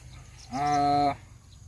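A pregnant cow on a Thai farm gives a single moo of about half a second over quiet background, loud and close.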